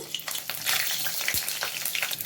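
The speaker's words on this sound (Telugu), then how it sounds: "ఆయిల్ వేడైన తర్వాత ఆవాలు వేసుకోవాలి చిట్టపట్టలు ఆడుతూ ఉన్నాయి పచ్చిమిర్చి వేస్తున్నాను" Mustard seeds and green chilies fry in hot oil in a pan, a busy crackling sizzle with scattered pops and stirring scrapes, close and steady throughout with no voices.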